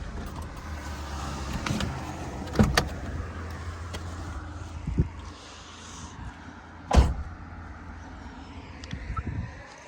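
A car is brought to a stop and parked nearby, with a low engine hum, scattered thumps and knocks, and a sharp door-like thud partway through, with no talk.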